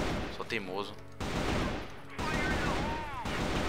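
Gunfire in the CrossFire video game comes as bursts of rapid shots, each burst loud and abrupt, alternating with the player talking over it.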